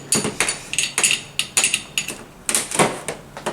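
A 14mm ring spanner clicks and clanks against metal fittings while cracking loose brake lines on a Tony Kart master cylinder, making a series of sharp, close, irregular taps.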